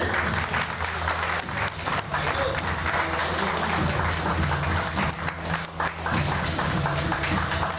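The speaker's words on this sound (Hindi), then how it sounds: "अपने जगह पे खड़े होकर जोरदार तालियों से स्वागत करते हैं मिस्टर पराग सर के लिए। जोरदार ताली।" Loud, continuous audience applause welcomes a guest onto the stage at an awards celebration, many people clapping at once in a dense roar, with a low musical hum running underneath throughout.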